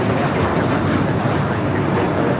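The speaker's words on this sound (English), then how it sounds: "Delta Airlines 1793 taking off to Puerto Vallarta on the 737-800." A Delta Boeing 737-800 takes off at Los Angeles International Airport, a loud, steady broadband jet roar that holds for the whole moment without talk.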